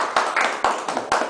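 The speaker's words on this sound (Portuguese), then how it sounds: "As palmas louvam ao Senhor." Congregation clapping hands in church in a steady worship rhythm: three or four sharp, loud beats spaced about half a second apart, with no talking.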